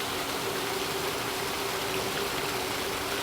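Water splashes steadily in a fountain at a Disney resort, a dense continuous rushing wash with no pauses, close and fairly loud.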